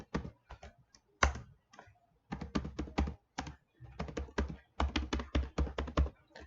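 Fingers type on a computer keyboard while writing HTML code in Visual Studio. Close, crisp key clicks come in quick irregular bursts with brief pauses, and no voices are heard.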